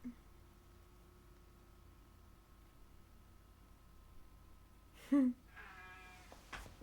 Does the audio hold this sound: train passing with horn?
no